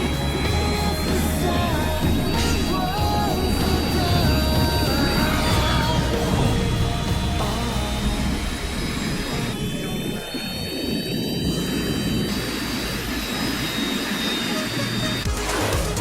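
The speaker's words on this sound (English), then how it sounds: "Engage thrusters." Spacecraft thrusters engaging after booster separation, a loud sustained jet-like roar with steady whining tones riding over it, continuous for the whole stretch with a brief dip midway, no talk over it.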